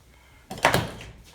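A refrigerator door with new hinges and a door closer swings shut on its own, a single close thump and rattle after a quiet moment, brief and fairly soft.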